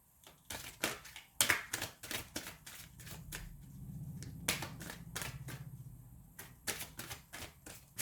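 Angel cards shuffled for a tarot reading: a run of quick riffling taps and flicks comes in bursts with brief pauses, close and fairly quiet, with no one talking.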